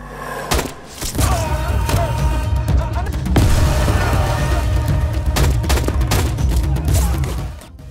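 Gunfire in an Indian film gunfight, dense bursts of shots and heavy booming impacts crowding together loudly over a dramatic soundtrack, with a short lull before the shooting resumes.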